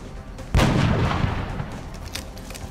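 A single loud sniper rifle shot in the XCOM strategy game, a sharp boom with a rolling low-end tail that fades slowly over the next two seconds, with no voices.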